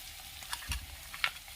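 Cashews, garlic, ginger and two chillies frying in a pan, a soft steady sizzle with a few faint crackles and stirring scrapes over a brief moment.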